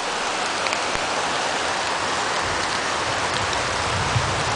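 Fast-moving floodwater and falling rain during a Florida flood, a loud, dense, continuous rushing hiss that fills the whole stretch without a break.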